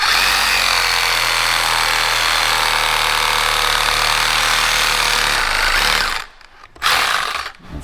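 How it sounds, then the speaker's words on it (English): A power tool cuts through the rubber transmission bushing on a Ferrari F430, a loud, continuous high-pitched whine and grind that stops abruptly near the end, then briefly restarts. "the goal is to cut through the bushing but not into the aluminum of the transmission"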